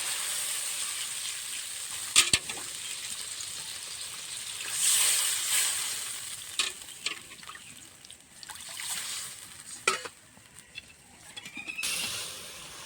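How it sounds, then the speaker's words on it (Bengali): Water is poured into sizzling, oil-released spice paste for Bengali bata fish curry, producing a hissing sizzle with trickling splashes and scattered clicks of utensils against the pan. "মশলা ভালো করে কষে নিয়েছি মশলা থেকে তেলও ছেড়ে দিয়েছে এবার দিয়ে দেব জল"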